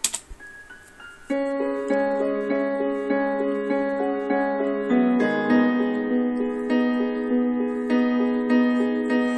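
Solo piano plays a gentle, steady pattern of repeated chords and melody notes, clear and close with no other instruments.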